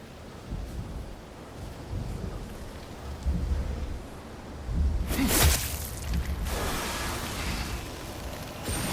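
Thunderstorm in the video game God of War Ragnarök: steady rain and wind hiss throughout, with a loud rolling thunder crash mid-clip followed by a second rumble, no voices.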